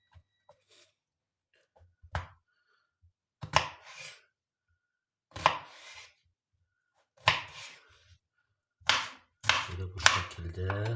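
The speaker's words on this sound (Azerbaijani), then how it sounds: "Böyle bu şekilde xiyarımızı da doğrayırıq." A knife chops cucumber on a cutting board in about seven separate bursts of quick cuts, close and crisp, separated by short pauses of quiet.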